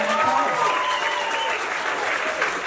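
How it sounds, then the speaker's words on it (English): A stand-up comedy club audience breaks into steady applause and cheering, a dense wash of clapping that holds at an even level throughout. "Give her a round of applause"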